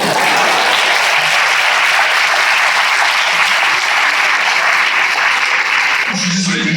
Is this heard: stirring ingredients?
no